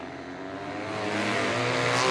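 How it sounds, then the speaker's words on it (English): A two-cylinder Yamaha XS 650 motorcycle engine revs up on a dirt race track straightaway, rising in pitch and loudness as it pulls away, heard from a distance. "He gasses the big twin up one more time down the back straightaway."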